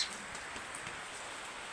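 Steady rain falls in a continuous soft hiss with faint scattered drop taps, nearby and unbroken for the whole moment.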